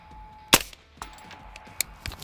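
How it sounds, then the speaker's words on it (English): A rifle fitted with a Vortex Strike Eagle 1-8x scope fires at targets about 125 to 150 meters away: one sharp, loud report, then a few fainter clicks and knocks over a quiet outdoor background, with no talking. "So I'm shooting about 125, 150 meters, and here is a tiny glimpse of my torture test"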